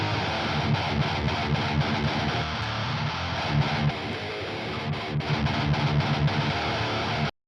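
Two distorted guitar tones play together, one scooped and boomy, one mid-heavy, blending into a thick chugging riff with rhythmic palm-muted breaks.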